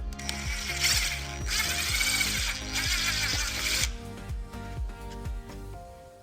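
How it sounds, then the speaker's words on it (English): A step drill grinds through metal in repeated bursts on a Ford Explorer, its pitch sliding down with each bite, loud and close, with a mechanical whir between strokes. "We recommend using a step drill."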